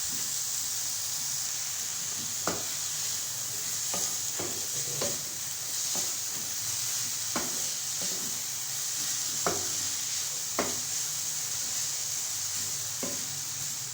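Chicken sandwich filling seasoned with salt and black pepper sizzles steadily in a pan, with sharp spoon or spatula taps and scrapes against the metal every second or so while it is stirred; no voices.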